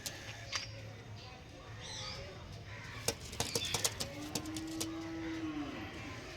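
A pigeon gives one drawn-out low coo near the end, mixed in with soft flapping and scattered clicks and taps at fairly close range, all quite faint.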